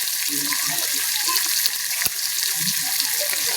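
Onion softening in hot oil with lentil, coriander and turmeric powder added for a tilapia curry with potato, eggplant and tomato: a steady, loud, even sizzle fills the whole stretch with a few soft knocks in the pan.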